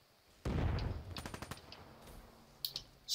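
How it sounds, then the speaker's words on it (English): Rapid automatic gunfire in a Call of Duty: Black Ops multiplayer match, a loud burst of close shots that rattles for about a second, then thinner distant shots and a final sharp volley. "Where am I getting shot from?"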